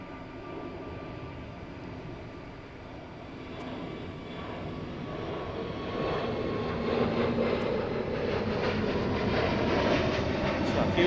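A Wizz Air jet taking off at Gatwick Airport, its engine roar steady and broad at first, then swelling louder in the second half as the aircraft powers away, with no voices over it.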